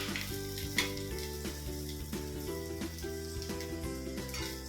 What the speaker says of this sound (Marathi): लालसर कलर येईपर्यंत आपला कांदा परतून घ्यायचा आहे